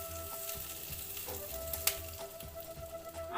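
Butter sizzles steadily in a frying pan for a chicken recipe, a soft continuous crackle with small pops and one sharper spatter near the middle, heard up close with no talking.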